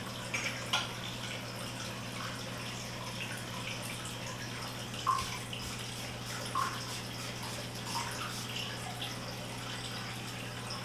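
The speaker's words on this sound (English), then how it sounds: "I'm going to pour into a spray bottle and test it." Comfrey hydrosol poured into a spray bottle makes a steady, quiet trickle of liquid running for several seconds, with a few faint drips and clicks over a low steady hum.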